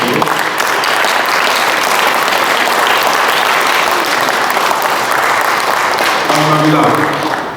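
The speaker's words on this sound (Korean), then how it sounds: "환영의 박수로 해주시면 감사하겠습니다." An audience applauds to welcome foundation officers standing at their tables at a forum, sustained dense clapping filling the whole room at full volume without letting up.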